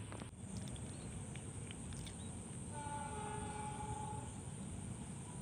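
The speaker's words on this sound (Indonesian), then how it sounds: "semboyan 35 dari kereta api Argo Wilis sudah terdengar ya" A distant horn from the Argo Wilis train in Indonesia sounds over a steady rumble of a passing train, with a long sustained tone rising out of the noise toward the end.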